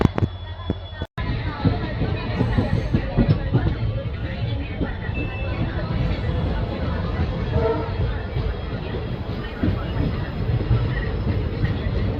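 Constant rumbling roar of a moving diesel train, the Tiruchirappalli Express between Palakkad Town and Trichy, with rhythmic clatter from the tracks, loud and steady throughout, with a faint murmur of people in the background.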